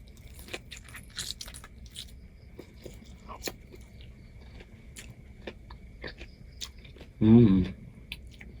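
Freshly molted soft-shell boiled crab is eaten up close: soft chewing and small wet bites through most of the stretch, then one louder, brief crunch near the end.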